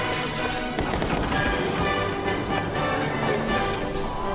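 Dense, continuous gunfire and impacts from an action game trailer fill the mix with rapid overlapping shots, loud and busy throughout with no clear pauses.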